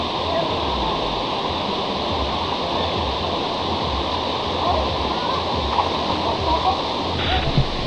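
A waterfall pours clear water in a continuous broadband roar that holds steady and fairly loud throughout, with occasional small splashes over the top.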